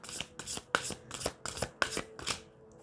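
A slippery tarot deck being shuffled by hand, about eight quick riffling bursts in an even rhythm, crisp and close, trailing off at the end with no talking.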